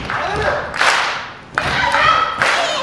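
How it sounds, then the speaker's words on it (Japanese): At a women's pro wrestling show in a small ring venue, the crowd keeps up loud, rhythmic clapping in unison. Sharp bursts of thuds and slaps from the ring cut through, with a commentator talking over it all. "さらにこの手拍子"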